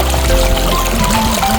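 Water is poured out for washing, making a short, loud, close gush that runs steadily for under two seconds.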